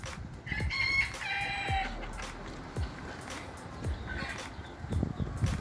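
Chickens cluck and a rooster crows nearby at a small holiday-resort zoo in İznik, Bursa, with scattered bird calls and faint background noise between the calls.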